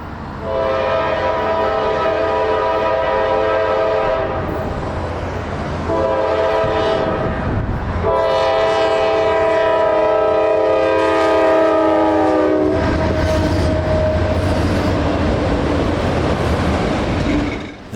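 A Norfolk Southern freight train with autorack cars passes a road crossing near milepost 128.20 north of Atlanta at sunset, its loud multi-tone horn blasting in several long sustained calls over the steady rumble of the rail cars.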